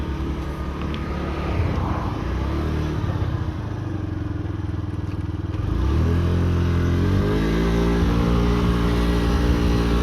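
A Honda Dio AF62 scooter engine runs close by, a loud steady two-stroke drone that rises in pitch and volume partway through as it revs up.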